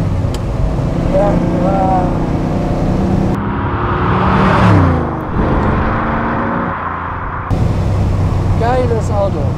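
A 1972 De Tomaso Pantera with a 5.8-litre, 350 hp V8 drives and accelerates, its engine rising and falling in pitch through the gears, heard from inside with an open window, loud and close.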